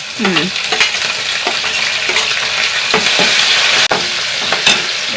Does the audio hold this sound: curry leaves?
yes